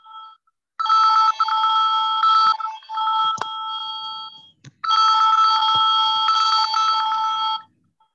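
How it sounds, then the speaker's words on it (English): A phone ringtone sounds during an online meeting, ringing loudly and close in two long bursts separated by a brief pause, with no talking over it. "Pushpanjali, your phone ringing, I think."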